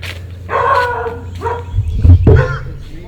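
A dog gives a few whining, yelping barks close by, with a low rumble and a brief thump partway through.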